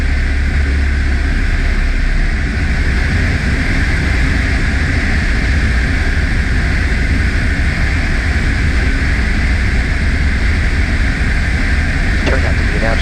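A small airplane on approach over Gig Harbor at night, turning right toward runway 17, fills the cabin with a loud, steady engine-and-airflow drone that holds unbroken throughout.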